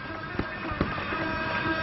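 Fireworks bursting over Ramlila Maidan during a Ram Navami celebration, heard as a steady distant rumble with a couple of sharper pops standing out, continuous and fairly loud throughout.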